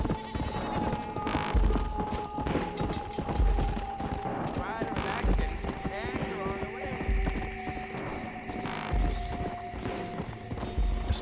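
Horse in the Red Dead Redemption video game, rhythmic galloping hooves with periodic whinnies and thumps over steady game music and ambience; a voice speaks briefly.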